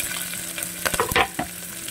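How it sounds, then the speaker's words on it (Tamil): Onions with cumin, curry leaves, garlic and chilli paste being stirred in a hot pan for paruppu soru, a steady sizzle with a few louder scraping stirs near the middle, close and alone. "அது நல்லா மிக்ஸ் பண்ணிட்டுருக்கேன்"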